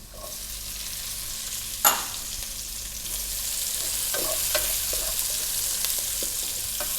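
Garlic and onion sauté in hot oil in a pan for pancit, a steady sizzle that swells after a sharp clatter as the ingredients drop in, with soft stirring scrapes.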